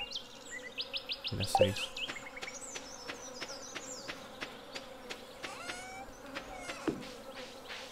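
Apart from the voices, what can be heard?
flies buzzing in video game Stardew Valley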